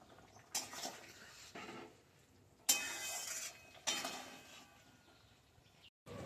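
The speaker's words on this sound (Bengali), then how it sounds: "একটু নাড়া দিয়ে দিই চারিদিকে ছড়িয়ে যাবে গুঁড়ো গরম মশলাটা" A spoon scrapes and clinks around a pot while ground garam masala is stirred into a cauliflower curry, a few distinct bursts of scraping separated by quieter pauses, close but fairly soft.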